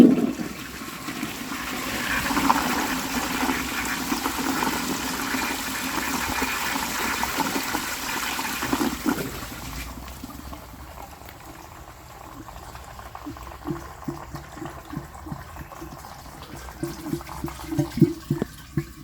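A 1935 Standard Siacto toilet with rocks, stones and shells in the bowl flushes in a loud, rushing surge for about nine seconds, then settles into quieter gurgling and trickling as the water refills.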